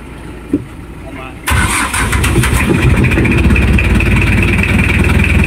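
A boat's pump engine cranks and catches at about 1.5 seconds, then runs as a loud, steady rumble; a brief knock sounds beforehand.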